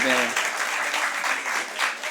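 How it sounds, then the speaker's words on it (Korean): Short burst of applause from a congregation at a Christmas church service, steady clapping of a small group with a voice speaking at the very start. "박수."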